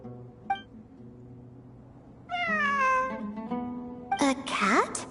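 A cat meows in the video game Genshin Impact, a few separate mewing calls, one short and early and then louder drawn-out cries near the end, over a quiet game background.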